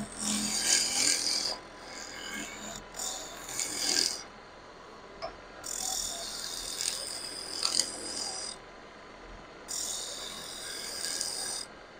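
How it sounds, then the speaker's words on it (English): A roughing gouge cuts an end-grain ash bowl blank spinning on a wood lathe, making bursts of harsh, hissing, scraping cuts that come and go between quieter stretches of the motor's steady hum. "First off, I'm going to do the first bit with my roughing gouge."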